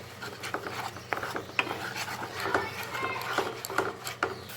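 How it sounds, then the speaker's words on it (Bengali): Spice masala for dum aloo, with turmeric and salt, is stirred on low heat in a pan, giving repeated scraping and rasping strokes over a steady low hum with faint sizzling. "এখন আমি মশলাটাকে সিম আঁচে কষিয়ে নেব"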